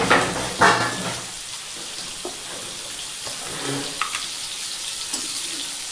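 Spices with turmeric and coriander powder being sautéed in a pan for a ridge gourd dish, a soft steady sizzle with scattered scrapes and stirring clinks, close and moderately loud with no talking.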